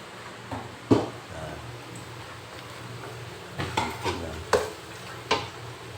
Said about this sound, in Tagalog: Ayan, halo na ang biryani.